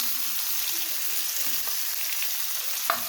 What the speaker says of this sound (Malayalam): ഒന്ന് നല്ല വഴറ്റിയെടുക്കാം